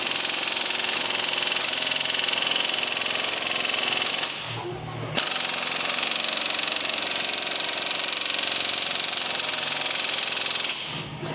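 An air compressor runs in a workshop where a Ford Ranger chassis is being stripped, giving a loud, steady mechanical roar that dips briefly near the middle, resumes, then cuts off just before the end.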